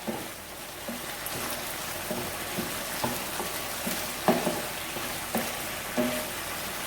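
Chilli chicken being constantly stir-fried in a pan: a continuous hissing sizzle broken by regular spatula scrapes and taps at a steady, unhurried rhythm.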